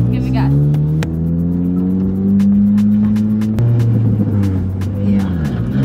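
A lowered, stanced car's engine revs as the driver gives it gas, a loud steady drone that climbs and holds in pitch, with clicks and a voice talking over it.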